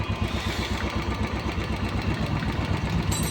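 A Royal Enfield Classic motorcycle engine idles during carburettor tuning, thumping in an even, rapid rhythm, close and fairly loud, with no voices.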